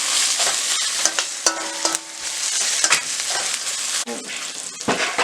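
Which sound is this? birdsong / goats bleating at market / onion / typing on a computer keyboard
onion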